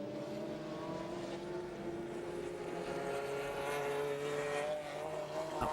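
Race cars roar steadily past at the Sears Point circuit during a 2002 American Le Mans Series race, a continuous loud engine drone with overlapping cars in traffic and no voices.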